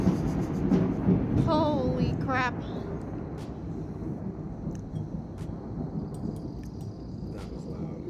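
Thunder rumbles low and heavy during a storm outdoors, a long rolling boom that fades into a softer steady wash like rain setting in, with a person's exclaiming voice briefly over it.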